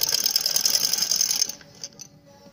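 A sewing machine stitching the edge of a shirt neckline gives a rapid mechanical clatter for about a second and a half, then stops, leaving a few faint clicks.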